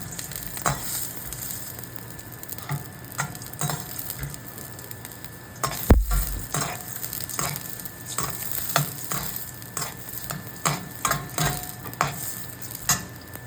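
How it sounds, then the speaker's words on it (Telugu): Green chilies, onions and prawns frying in a pan, a constant sizzle with repeated spatula scrapes and taps at an uneven rhythm and one heavier knock partway through. "బ్రౌన్ కలర్ వచ్చే వరకు వేయించుకోవాలి."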